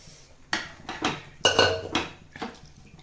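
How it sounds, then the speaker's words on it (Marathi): Water rinsed out of a pressure cooker is poured into a steel kadhai, heard as several close metallic clanks and splashy knocks of cookware in a home kitchen, with no talking. "आता मी टाकते कुकर विसळून पाणी"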